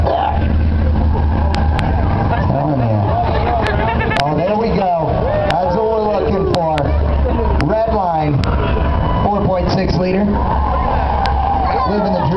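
A 1995 Lincoln Town Car engine revs and drones through an autocross run at a Good Guys event, steady and loud beneath continuous excited commentary from people talking.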